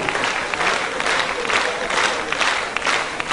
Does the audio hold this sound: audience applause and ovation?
yes